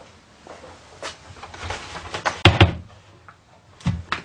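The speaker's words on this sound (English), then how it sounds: "flick this catch on either hinge, and then the door should just lift straight out" A cupboard door is lifted off its hinges after the hinge catches are released, giving a few light knocks and clunks, with one sharper wooden clatter in the middle and softer taps before and after.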